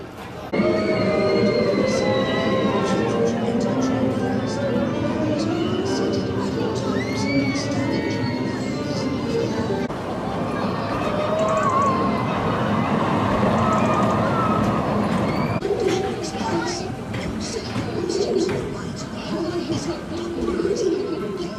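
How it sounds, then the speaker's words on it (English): A miniature train ride at an amusement park during a Christmas event runs under a steady, dense wash of crowd noise with children's shouts and birdsong, the rolling rumble continuous and fairly loud throughout. "going on to a little train ride, which is very exciting"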